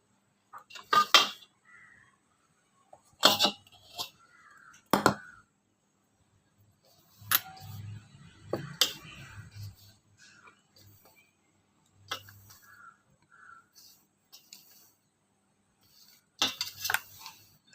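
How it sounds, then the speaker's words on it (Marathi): Dhokla batter being mixed in a bowl: sporadic sharp clinks and scrapes of a spoon against the bowl in separate short bursts, with quiet stretches between them. "तर मी याच्यामध्ये मिक्स करून घेणार आहे."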